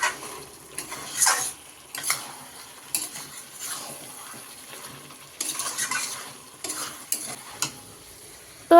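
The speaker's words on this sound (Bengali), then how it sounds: "এখন আলুটাও কিন্তু এই যে দিয়ে দিলাম মাংসের মধ্যে।" Red-fried potatoes stirred into chicken kosha simmering in oil, with soft scraping and stirring strokes over a low, steady sizzle and a few clinks of utensil against the pan.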